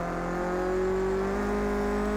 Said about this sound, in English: Much smoother this time coming into the braking zone.